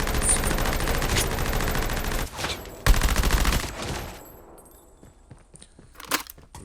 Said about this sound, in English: Missed a bunch of shots with my hip fire.